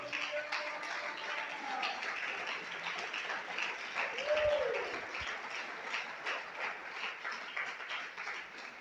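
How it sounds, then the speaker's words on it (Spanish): A congregation at an anniversary church congress applauds for the Lord, a moderate, continuous spatter of many hands clapping in a reverberant hall, with a brief low thump midway. "dale el aplauso al Señor."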